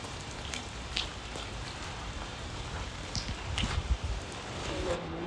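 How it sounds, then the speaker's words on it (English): Rain falling steadily outdoors, a continuous close hiss with scattered individual drop ticks, loud and unbroken with a soft voice briefly under it. "I love the rain."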